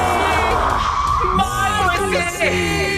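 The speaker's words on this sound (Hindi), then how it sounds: "पीछे से सारी आत्माएं चिल्लाने लगी, मार दो इसे" In a Hindi horror audio drama, a chorus of spirit voices shouts and wails together in a loud, continuous, echoing cry.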